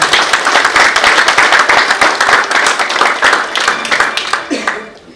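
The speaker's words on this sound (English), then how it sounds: "Little audience applause would be appreciated." Audience applause at the Nashik Leadership Awards 2023, a crowd clapping briskly and loudly with distinct individual claps in the mix, holding steady for about four seconds before thinning out, with a voice briefly audible at the close.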